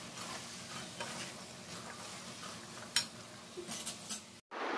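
Yellow pumpkin stir-fry with salt and jaggery is stirred in a pan, a soft sizzle running under occasional spoon scrapes and clinks. The sound is fairly quiet and close, and it cuts off briefly near the end.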